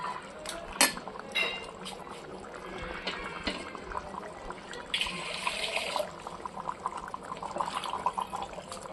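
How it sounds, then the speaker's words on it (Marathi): Water poured into a mutton curry cooking over a wood-fired clay stove, a short splashing pour amid pan clatter and stirring sounds, faint and uneven. "त्यामध्ये थोडं पाणी टाकूया."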